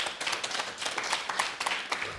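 A small gathering of Liberian community members in the Gambia claps for an introduced vice chairman, a short burst of scattered, moderately distant hand claps.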